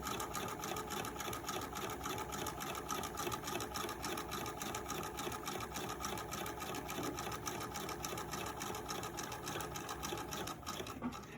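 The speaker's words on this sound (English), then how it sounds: "stitch all the way down the piece of fabric" A sewing machine runs steadily for about eleven seconds, stitching down the length of a piece of fabric for a gathered seam, with a continuous, even mechanical whir that slows slightly at the end and no voices.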